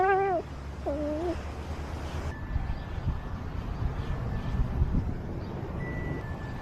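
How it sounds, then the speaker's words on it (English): A cat meows twice, short and rising, close by, then a quiet steady background hum with faint tones carries on alone. "That's a really cute kitty."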